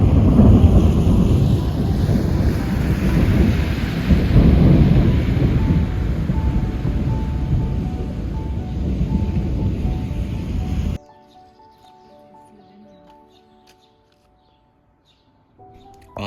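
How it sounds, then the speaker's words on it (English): A thunderstorm rolls over Kranjska Gora, a Slovenian mountain town near Triglav, with heavy rain and deep rumbling thunder filling the first eleven seconds before the sound drops abruptly to near silence, faint tones lingering. "a thunderstorm quickly moved in"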